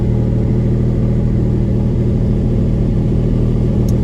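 A 1999 Lamborghini Diablo Roadster idles at around 1,500 RPM, giving a steady, close, deep engine rumble with a slight uneven pulse. No one speaks.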